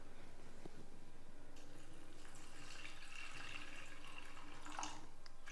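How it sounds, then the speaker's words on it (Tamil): Water is poured onto white cowpeas in a kitchen pot, a faint, brief trickle and splash against a quiet room background. "இதில் வந்து நம்ம கொஞ்சமாக தண்ணி ஊற்றிக்கலாம்."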